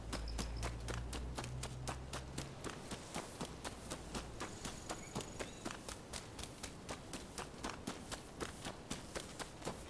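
A horse gallops in a video game, steady rhythmic hoofbeats pounding close and loud throughout with no talk over them.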